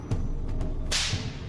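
Whip lashes from a scorpion whip striking a pig carcass: sharp cracks land at irregular intervals over a low rumble, and a louder hissing swish near the end sounds close.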